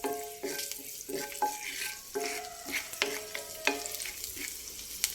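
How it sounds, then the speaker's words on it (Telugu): Finely chopped garlic and ginger fry in a pan for egg bhurji, stirred in repeated scraping strokes over a steady sizzle, close up, with faint music underneath. "వేగిపోయినాయి"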